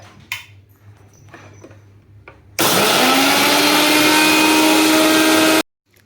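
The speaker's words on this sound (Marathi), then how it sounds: "मिक्सर" A mixer grinder blending beetroot juice whirs loudly for about three seconds, then cuts off abruptly, following some quiet clatter and handling noises.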